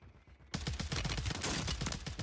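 Rapid gunfire in the video game Warzone 3 on Rebirth Island, from a Reclaimer 18 shotgun, bursting in suddenly after a quiet half second, then a loud, dense, continuous volley of shots close up.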